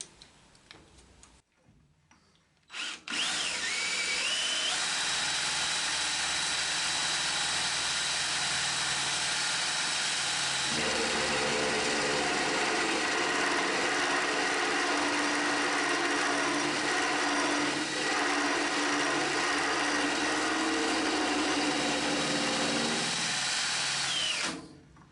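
Milling machine taking a 1 mm cut on a head casting: a loud, steady whining cut that runs continuously for over twenty seconds after a brief start-up, with a faint rhythmic ticking underneath.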